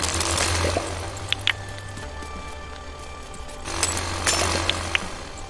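Jackhammer drilling in the video game Dinkum, a loud low rumbling drone in two bursts separated by a quieter gap with small clicks and a faint tone.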